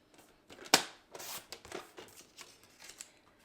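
Cardstock is sliced on a Stampin' Up paper trimmer, a single sharp close snap of the blade followed by softer papery scraping and shuffling as the sheet is handled, quiet overall.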